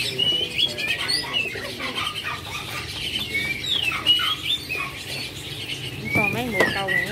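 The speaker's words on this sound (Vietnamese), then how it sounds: "Đầy đủ tất cả các loại chim." Caged birds in a pet bird shop in Vinh Long chirp, tweet and coo together in a busy, overlapping chorus, with pigeons or doves among them and quiet talk in the background.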